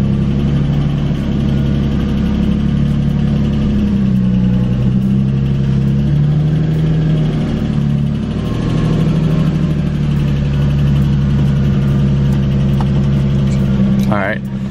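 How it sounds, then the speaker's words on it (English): A Lexus IS300 engine idles steadily while warming up, a continuous low rumble with slight fluctuations heard from nearby, and a person talks over it throughout. "So I'm gonna let the car warm up and then we'll go for a drive."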